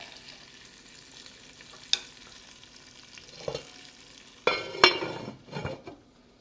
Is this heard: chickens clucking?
no